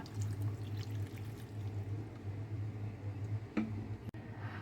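Vinegar pours gradually into a lemon and dates pickle, a soft, steady trickle of liquid that runs for a few seconds and ends with a brief clink.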